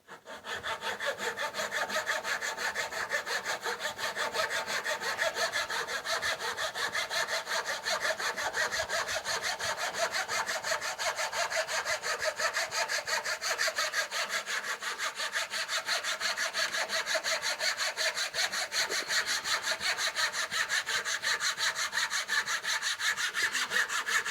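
Plain pine board being hand sawn with a steady, rapid rhythm of rasping strokes that continues without a break, close and clear with no voices.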